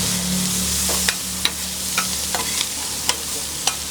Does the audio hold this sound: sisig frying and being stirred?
yes